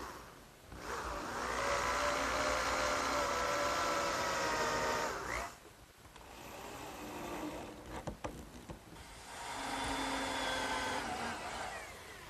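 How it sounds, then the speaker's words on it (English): A power screwdriver drives screws into wood along the edges of a garden work table, whirring in two long bursts separated by a short pause with faint handling noises. "I'm just going to put 4 screws down each edge."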